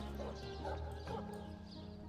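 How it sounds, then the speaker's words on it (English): An agitated dog in the video game Divinity: Original Sin barks repeatedly but faintly beneath continuous game music. "Looks like that dog is awfully agitated."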